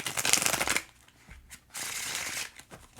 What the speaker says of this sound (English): Ooh, that was a beautiful bridge shuffle.